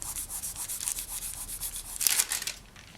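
Polymer clay being burnished onto a tile by hand, a close, steady rubbing and scraping with rhythmic strokes that swell briefly louder near the end, no talking.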